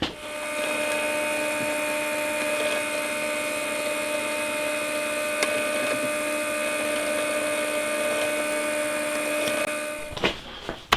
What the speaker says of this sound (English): I'm going to get a small drill and just drill through those holes